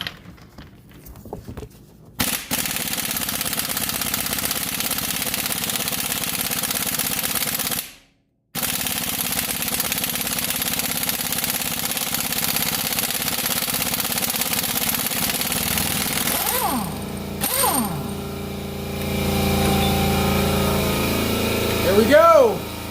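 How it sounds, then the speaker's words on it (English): Pneumatic impact gun working a 24 mm bolt loose during C5 Corvette cam-install disassembly: loud, close, continuous hammering rattle in long bursts, broken by a brief pause, with machinery noise toward the end. "breaking out the 24 mil on the impact gun here"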